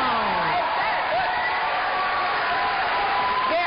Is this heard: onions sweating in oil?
no